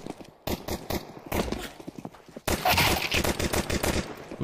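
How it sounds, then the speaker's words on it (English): Glock pistol fire in Counter-Strike 2, sharp rapid shots in quick bursts, close and loud, with rattling echoes of gunfire between them. "Oh, the Glock sounds so funny."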